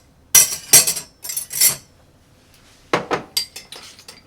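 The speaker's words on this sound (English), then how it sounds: "Let's get some ice." Ice cubes dropped into a cocktail mixing glass for an Old Pal of rye whiskey, dry vermouth and Campari, sounding as close, bright clinks and rattles in two bursts of several quick hits separated by a short pause.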